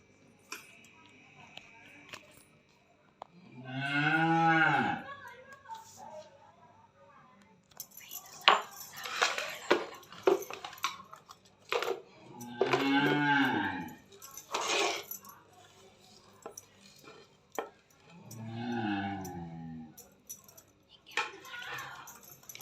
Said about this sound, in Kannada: ಇದರಲ್ಲಿ ಹಾಕಿ ಮೊದಲಿಗೆ ಜೀರಿಗೆ ಮೆಣಸನ್ನು ಕುಟ್ಟಬೇಕು